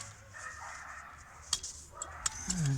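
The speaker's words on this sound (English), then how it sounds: "You gotta excuse the dogs, we have a very dog friendly neighborhood." A few sharp dog barks ring out at a distance, separate yaps over a steady background hum, ending with a louder whimpering yelp.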